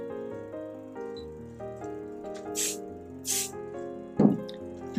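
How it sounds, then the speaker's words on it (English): Two quick hisses of 505 temporary spray adhesive are aimed at an embroidery hoop before vinyl is laid on, short bright bursts over soft background music. "We're going to lightly spray with 505 spray."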